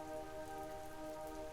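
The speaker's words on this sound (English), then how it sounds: "Watching these raindrops fall on our window endlessly." Rain falls on a window pane as a brief, steady patter with a soft hiss, alone and without any voices.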